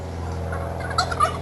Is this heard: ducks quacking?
yes